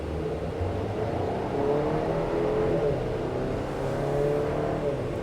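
A 2024 GMC Acadia Denali SUV pulls away from a stop and accelerates steadily, its engine note rising and swelling over road and cabin noise, heard from inside the vehicle without speech.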